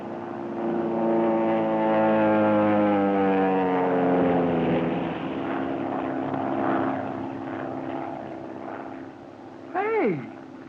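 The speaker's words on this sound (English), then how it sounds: "make no move as the plane goes over" A propeller plane drones loudly overhead, its engine pitch sliding downward as it passes and fades, followed by a brief sharp squeal near the end.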